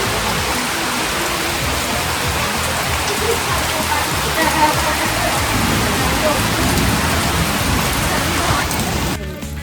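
Heavy first monsoon rain pours down in a Konkan village in May, a dense, continuous roar, close and loud from start to finish, with no voices.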